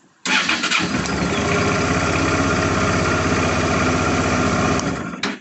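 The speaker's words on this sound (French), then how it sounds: "Et la moto démarre." A 2006 Honda Deauville motorcycle engine cranks and catches almost at once, then settles into a steady, loud idle close by, before cutting off near the end.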